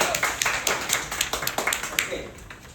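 A Toastmasters club meeting gathering at its inauguration gives a round of applause, with a few close, distinct claps repeating in a steady rhythm over a faint murmur.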